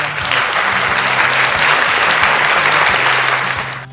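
A canned applause effect from a V8 soundcard plays as a loud, dense burst of crowd clapping lasting a few seconds before cutting off abruptly.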